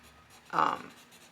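A colorless blender pencil rubs across textured drawing paper in one short, soft scratchy stroke, close and clear against quiet room tone.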